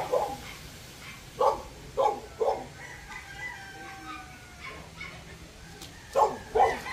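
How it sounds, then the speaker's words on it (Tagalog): A dog barks in short bursts, a few spaced yaps then a pair near the end, over steady wind noise on a windy rural day with a rooster crowing faintly in the background. "nagising na rin si Mocha, ang aking aso. Maingay na rin"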